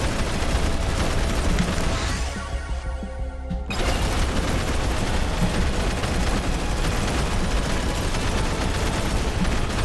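Explosive rounds in the game Megabonk go off in a dense, loud barrage of rapid bursts and booms, briefly thinning to a quieter gap with a high whine before the relentless firing resumes for the rest of the stretch.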